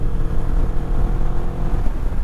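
A 2024 Moto Morini Calibro 650 motorcycle engine pulls in sixth gear at around 110 km/h, a loud, steady low rumble mixed with wind roar, no speech.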